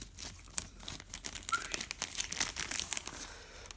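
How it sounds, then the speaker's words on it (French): A Lenovo tablet being unwrapped from its packaging: quiet, close crinkling and rustling of plastic and wrap, in irregular bursts with a few small crackles, and no voices. "on va la déballer."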